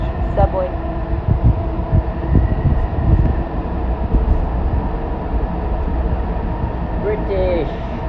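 Steady rumble and hum inside a moving JFK airport AirTrain car, with people talking over the continuous rolling noise.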